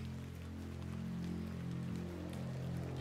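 Steady rain falls in The Excavation of Hob's Barrow, a soft continuous wash of drops spread evenly across the clip, with a low ambient hum beneath and no voices.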